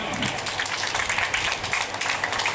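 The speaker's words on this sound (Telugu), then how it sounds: "గట్టిగా చప్పట్లు" At a school batch reunion get-together, an audience claps steadily in a dense, even patter of applause that runs throughout at moderate volume.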